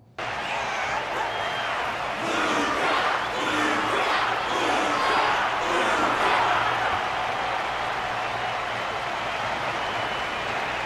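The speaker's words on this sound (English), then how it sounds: "Their constant applause is a salute to this resilient Belabogian fighter" An arena audience in a fighting video game cheers and applauds in a dense, sustained roar of claps and shouts that swells midway and holds steady to the end.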